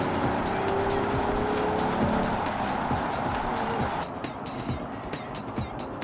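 A used car drives and accelerates, its engine roaring loudly and steadily with tyre and road noise, then easing slightly toward the end.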